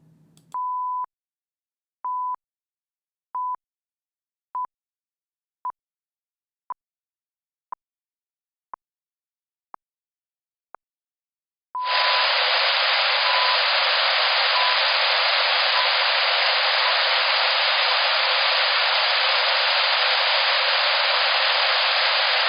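A series of short beeping tones, each shorter than the last, then a loud steady hiss of white noise drowns out the remaining faint tones.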